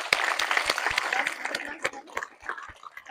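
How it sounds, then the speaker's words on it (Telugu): A school audience at a National Mathematics Day event gives scattered claps, individual sharp hand claps spaced unevenly over a murmur of voices in a hall. "క్లాప్స్ కూడా గట్టిగా."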